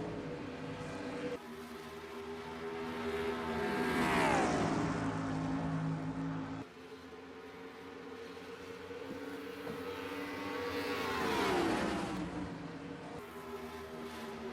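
Race cars on the track at a Charlotte race, engines roaring in two long passes that swell and sweep downward in pitch as they go by, loud and close with continuous engine drone between.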